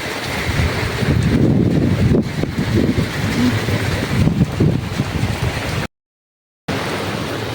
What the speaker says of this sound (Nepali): तूफान